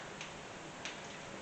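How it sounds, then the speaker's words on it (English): A torque wrench clicks while rocker arms are torqued down on a rebuilt engine, first stage at 44 inch-pounds: two faint, sharp clicks about half a second apart over a steady background hiss. "torquing the rocker arms down"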